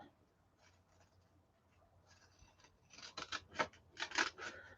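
Scissors cutting across piano paper, starting faint with light snips and then building into louder, rhythmic crisp cuts close by, with no talking.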